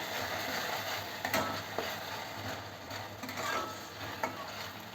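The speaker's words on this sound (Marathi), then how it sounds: "यालाही चांगलं परतवायचं आहे आता बारीक गॅसवर परतवायचं" Ground green chili masala paste sautés in a pan over a low gas flame, a steady soft sizzle with light scraping and stirring, close and continuous, no voices.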